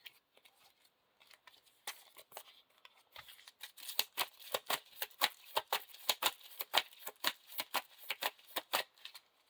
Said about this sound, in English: So we're shuffling these into the encounter deck.